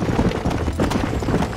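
Hooves of a galloping horse in Red Dead Redemption pound in a quick, steady clip-clop rhythm, close and loud throughout the short burst of riding.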